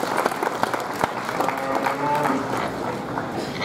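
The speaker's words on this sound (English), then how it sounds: "let's go ahead and give that crew of people a big round of applause as well." Applause from a crowd gathered ringside at a livestock show, a steady patter of many hands clapping at moderate distance for a few seconds.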